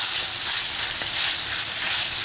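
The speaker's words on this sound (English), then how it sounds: "You can hear it already start to sizzle." Bacon frying outdoors in a front yard for cheese and bacon soup, a loud continuous hiss of sizzling fat filling the whole stretch, close and steady with no talk.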